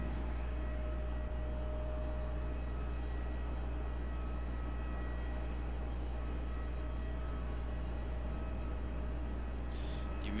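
An airliner on final approach to Raleigh-Durham airport, crabbing slightly sideways, gives a steady low engine rumble and broad hum that stays fairly even throughout, with no talk.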